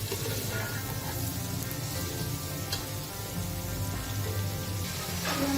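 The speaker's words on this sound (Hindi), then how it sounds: "ये जो है हमारी शिमला मिर्च फ्राई हो चुकी है" Capsicum frying in a pan gives a continuous close, rain-like crackling sizzle that holds steady throughout, with a few faint clicks and no voices.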